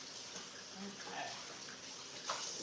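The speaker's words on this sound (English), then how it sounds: "I'm gonna go rinse my hands" A tap runs while hands are rinsed, a steady, fairly faint rushing of water with slight splashy variations and no break.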